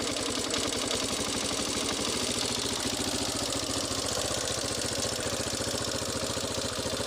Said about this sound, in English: I think the idle's a little bit low. We'll just idle up a little bit.